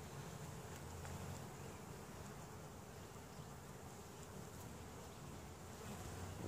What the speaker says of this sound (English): A couple new bees in here.